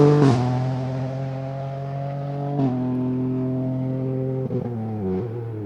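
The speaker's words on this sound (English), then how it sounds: "the next car that we thought that we'd be seeing through was Daniel Gonzalez" A rally car drives through the end of stage SS8 at the 2023 Gippsland Rally, its engine droning loudly and revving hard, with distinct shifts in pitch as it changes gear.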